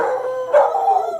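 Two dogs bark and howl outdoors at night at a car passing on a gravel road; a loud, close, drawn-out howling bark fills the short moment.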